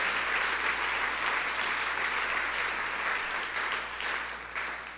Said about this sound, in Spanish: si vamos a aplaudirlo, vamos a hacer todos juntos